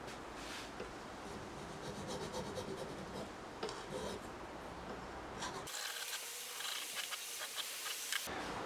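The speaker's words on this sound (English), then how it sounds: "I finished those off using the more expensive and finer file" A fine file rasps across stainless steel fret ends in quick, repeated strokes that sound close and gritty, carrying on steadily with no talking.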